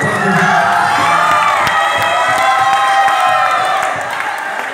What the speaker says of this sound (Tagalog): Palakpakan para sa lahat ng mga hurdiyaw.